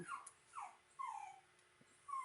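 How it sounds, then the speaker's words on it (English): A puppy whimpers softly nearby in a quiet room, giving a series of thin, high, falling whines spaced a moment apart. "My poor little puppy. She is not happy about not getting to be at the front."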